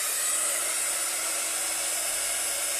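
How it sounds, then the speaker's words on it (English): A heat gun blows hot air while a chalkboard-style Christmas card is being made, giving a steady, loud, unbroken whooshing roar that holds at one level throughout. "I'm going to turn my heat gun on."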